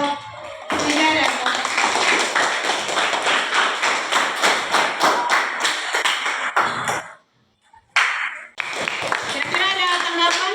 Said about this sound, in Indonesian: aplaus untuk kelompok 3